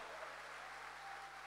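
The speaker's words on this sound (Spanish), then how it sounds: "Dale un aplauso a Jesús." Church audience at a Spanish-language service applauding, a steady even wash of clapping that holds at a moderate, somewhat distant level throughout.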